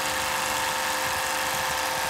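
A Stella land-based watermaker runs with a steady, even mechanical hum and whine from its pump, constant and unbroken, with no voices.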